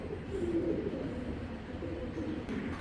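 Homer pigeons, including a female, coo softly in a low, steady murmur at a pigeon sale, faint and close with no talk.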